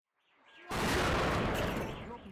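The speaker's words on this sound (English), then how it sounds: "That explosion was from a secondary Russian strike in the Ukrainian city of Zaporizhzhia on Friday." A Russian missile strike on the Ukrainian city of Zaporizhzhia erupts in a sudden loud blast that rolls on as a sustained roaring rumble, following a quieter distant build-up.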